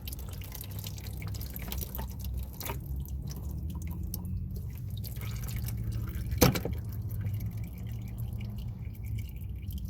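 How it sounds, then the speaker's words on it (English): Engine oil drains from a car during an oil change, a soft steady trickle with occasional drips and one sharper clink midway, faint and close with no talking. "So I would let that drain out a little bit just to get that oil out of the way."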